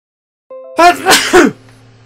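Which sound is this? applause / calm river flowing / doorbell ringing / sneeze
sneeze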